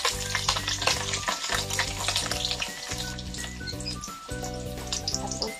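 Onions hit the hot oil for a chicken igado, sizzling steadily and loudly up close, with rhythmic stirring pulses and a tonal hum running underneath the frying.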